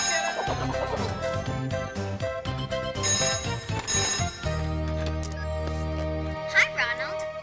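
A cartoon picture phone rings with a bright electronic ringtone of repeated tinkling, bell-like tones over background music, the ring pattern continuing for several seconds, fairly loud and close.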